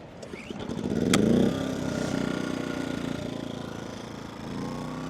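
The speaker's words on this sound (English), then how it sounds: "with this one, with being a random orbital, it's really good. And it's really easy to sand" An electric random orbital sander runs during truck body work, spinning up with a rising whine and then holding a steady buzzing hum with slight wavering, close and loud, with no one speaking.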